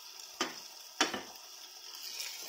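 Jackfruit jamun fry in a pan with a faint, steady sizzle, broken by two sharp scraping or stirring clicks close by.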